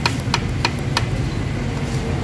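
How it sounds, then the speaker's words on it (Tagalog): A rough, loud Ford Ranger 3.2 engine rumble with a regular metallic piston pin knock tapping through it, evenly spaced at first and then fading into the drone. "So napakalakas talaga ng piston pin knocking."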